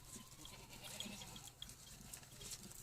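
Barbari goats on a goat farm give soft, faint bleats among low farmyard noise, a few short calls spread across the moment with no speech.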